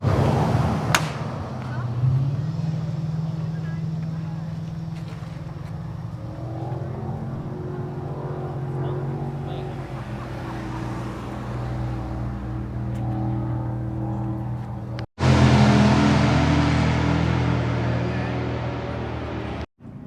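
Classic Hondas drive the winding Tail of the Dragon mountain road in North Carolina during a 2023 car meet. A car engine drones and rises steadily from inside the cabin, with a sharp cut and louder surge late on.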